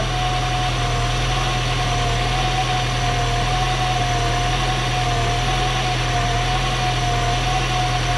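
A Seat Cordoba 1.6 engine idles on its first start after a head gasket replacement, with a possible exhaust leak between manifold and pipe: a steady, even idle hum with a constant whine, close and alone for several seconds.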